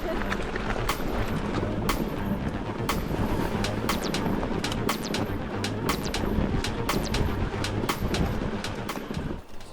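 A mountain bike rattles down a bumpy downhill trail near Vinatovača, with constant rumbling and wind rush and frequent sharp clattering knocks as the wheels hit bumps, loud and close.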